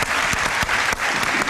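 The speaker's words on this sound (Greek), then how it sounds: "Ένα χειροκρότημα στην κυρία Σοφκάλη, σας παρακαλώ." Studio audience applause on a Greek TV talk show, a steady wash of many hands clapping with a few sharper claps standing out, fairly distant and without speech.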